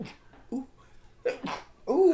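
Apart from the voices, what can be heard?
sneeze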